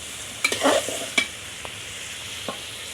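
Masala for a hilsa fish curry sautés in oil, giving a low background sizzle broken by a few sharp spatula scrapes and stirring clatters in the first second, close up.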